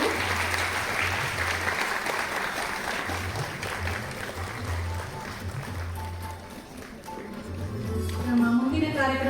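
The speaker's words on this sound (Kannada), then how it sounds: "ನಮ್ಮೆಲ್ಲರ ಒಂದು ಜೋರಾದ ಚಪ್ಪಾಳೆ" An audience claps loudly at a felicitation ceremony on stage, with dense continuous applause over a humming PA system, fading slightly and then swelling again near the end.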